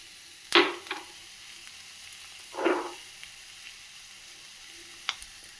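Ghee sizzling with chili flakes and ground black pepper, heard as short separate bursts of loud hissing spatter over a quiet background, each flaring and fading within about half a second, with no talking.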